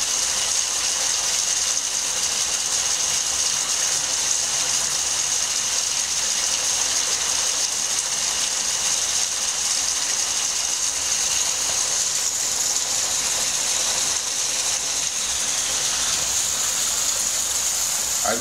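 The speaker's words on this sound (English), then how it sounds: "I think it's hailing. Yeah, that's hail." Hail coming down on a rainy day, a constant dense rattling patter with a faint high ringing tone, steady and unbroken throughout, close by and with no talking.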